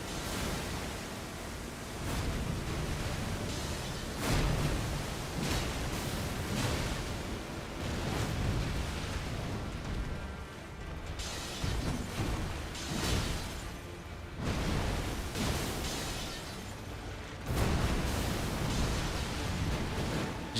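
Explosions in a video game boss fight thunder repeatedly as broad, loud noisy bursts over a dense continuous rumble, with no voice heard.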